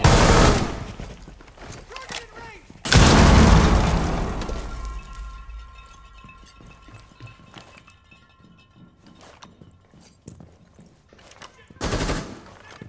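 Gunfire and a frag grenade explosion in Rainbow Six Siege: rapid bursts of shots, then a loud blast around three seconds in with a decaying rumble, more scattered shots, and a final burst near the end, with a voice talking at times.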